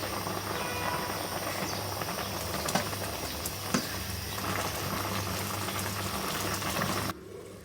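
A pot of food, with ghee just added, cooks on the heat in a steady, even simmering hiss that stops abruptly near the end, with no talking.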